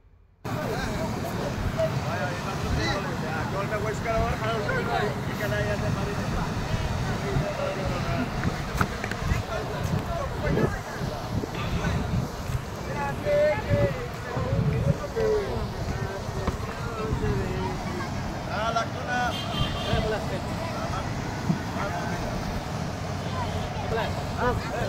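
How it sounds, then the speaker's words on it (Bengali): A motorboat on the Umngot river at Dawki hums steadily underneath for the whole stretch, a moderate engine drone with people talking over it. "এখন আমরা সবাই যে যা নৌকাতে আবার উঠে পড়ছি, এখন আমরা ব্যাক করব"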